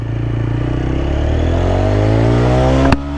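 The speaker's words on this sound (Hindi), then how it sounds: "तो चलिए स्टार्ट करते हैं फर्स्ट गियर से" A 2024 TVS Apache RTR 160 4V motorcycle accelerating hard in first gear, its engine note climbing steadily in pitch, loud and close, then a sharp clunk as the revs drop at the shift.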